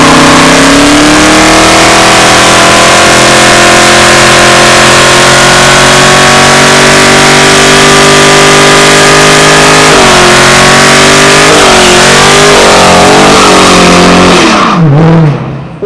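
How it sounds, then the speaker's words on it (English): A 2015 Dodge Charger SRT Hellcat with a 707-horsepower engine roars loudly during a smoky track burnout, holding a high rising rev for about ten seconds before the pitch wavers and dips and then cuts off abruptly. "I'll do a nice smoky burnout for you"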